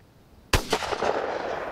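A single loud, sharp shot from an MP-155 shotgun firing a high-velocity shell, fitted with an Anaconda Mid Range choke, breaks a half-second of quiet and then rings out in a long echoing decay.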